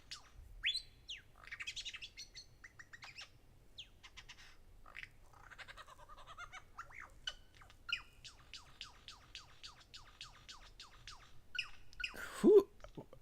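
A game bird chirps and tweets in quick, scattered bursts, rapid trilling runs and short squawks at a faint level, ending in a louder squawk.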